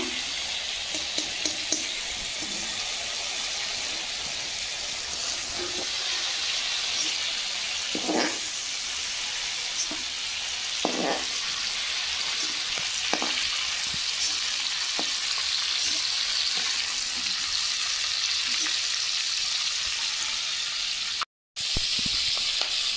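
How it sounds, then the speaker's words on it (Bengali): Steady, loud sizzling of prawns frying in hot oil, with occasional scrapes and clinks of stirring. "চিংড়ি মাছ ভেজে নিয়েছি, তুলে নেব।"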